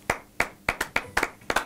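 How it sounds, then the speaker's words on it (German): Two hosts give a small round of applause on a late-night show; about nine sparse, distinct hand claps, close and dry, with no crowd. "Einen kleinen Applaus vielleicht von dir und mir für Emily."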